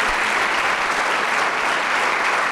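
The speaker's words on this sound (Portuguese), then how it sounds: "Dê uma salva de palmas a Jesus." A church congregation claps together in sustained, dense applause, loud and steady throughout with no voices standing out.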